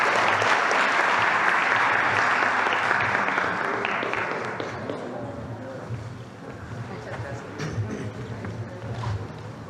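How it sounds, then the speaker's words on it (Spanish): Audience applause at a public event in Mexico, loud and dense at first, then thinning and fading after about four seconds into scattered clapping with voices underneath. "Les damos un aplauso"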